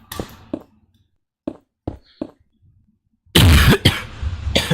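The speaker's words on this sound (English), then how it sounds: "My bad for coughing in the mic." A person coughs straight into a close microphone during a game build stream, with several short sharp coughs spaced apart and then a louder, harsher fit of coughing and throat clearing.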